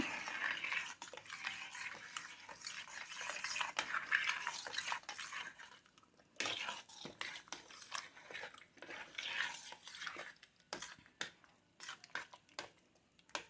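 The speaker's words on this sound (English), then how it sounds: "2 teaspoons of paprika, and a half a cup of chili powder. Stir this up." Spoon stirring paprika and chili powder into a pot of homemade chili, giving irregular scraping and clinking taps against the pot, fairly close, with brief pauses and no talking.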